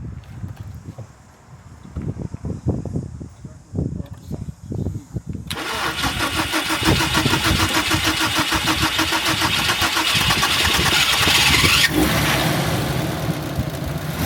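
A Nissan R34 Skyline with one fuel injector unplugged cranks over a few seconds amid faint shuffling. It then catches and settles into a loud, continuous engine run that carries to the end.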